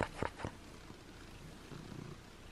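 A domestic cat purrs softly and continuously at close range, a low rhythmic rumble that follows a few brief louder noises at the start.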